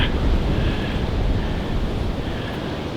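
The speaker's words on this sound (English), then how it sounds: "I know you can hear all of this because of the wind" Strong wind buffets the microphone outdoors beside the Warwickshire Avon at dusk, a loud, constant roaring rush with no pauses across the whole stretch.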